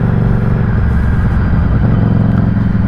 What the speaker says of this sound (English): I like the rumble of this exhaust